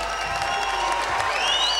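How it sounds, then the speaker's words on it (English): A crowd at a fight event breaks into applause and cheering, sustained, dense clapping filling the space. "So big round of applause to Bruce."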